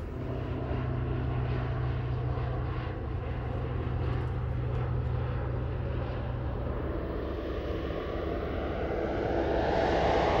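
A crop-dusting airplane roars low over a corn field, its propeller engine droning steadily and loudly throughout, swelling as it passes close overhead toward the end.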